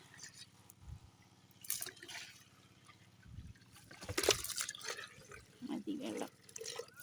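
Water from a tap trickles and drips in a Nilgiri village farm setting, with intermittent splashes and bursts of flow between quiet gaps, while people speak nearby.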